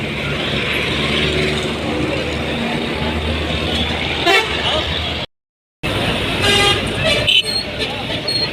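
Traffic rolls along a highway toward Karachi near Wadhu Wah Gate in Hyderabad, Sindh, with cars, buses and trucks passing close by, repeated horn toots, a brief dropout in the middle and talk mixed in.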